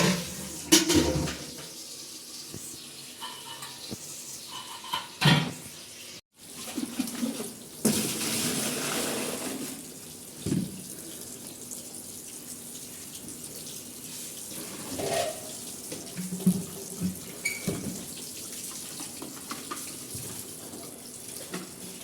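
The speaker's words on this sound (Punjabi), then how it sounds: "ਮੈਂ ਤਾਂ ਤਾਜ਼ਾ ਪਾਣੀ ਭਰ ਲੈਣੇ" Fresh water runs from a household tap into a vessel, with a steady hissing stream marked by a few clanks and knocks of the container, fairly close and without talk.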